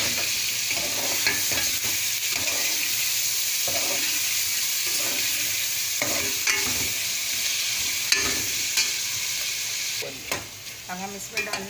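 Chicken frying with garlic and ginger in a pan, a loud continuous sizzle with periodic stirring scrapes and clanks, ending in a few sharper utensil knocks.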